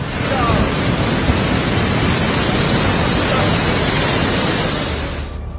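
Cyclone Ditwah storm with winds near 100 km/h and sea waves surging along the coast, a loud, steady wall of roaring wind and surf that holds constant before fading at the end.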